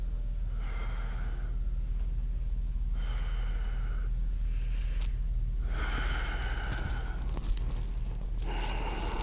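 Slow, deep diaphragmatic breaths fill a yoga class, long airy inhales and exhales repeating in steady cycles at close range, with no talking over them.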